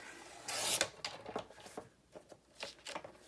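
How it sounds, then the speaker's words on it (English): Patterned 12 x 12 Stampin Up designer paper is cut, giving a quiet scratchy rasp followed by a run of short soft rubbing strokes close by, with no voices. "So basically we need to cut 1/2 inch off of this piece."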